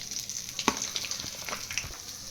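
Rawa-coated fish fries in oil with a soft, steady sizzle broken by a few sharp crackles and light scraping clicks, close and fairly quiet.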